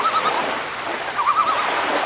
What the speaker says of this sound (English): you'll hear the seagull in the left speaker, the ocean in the right speaker,